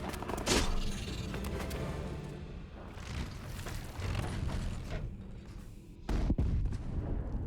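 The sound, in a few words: cannons firing in video game Age of Wonders 4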